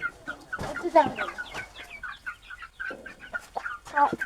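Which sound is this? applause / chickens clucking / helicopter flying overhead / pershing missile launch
chickens clucking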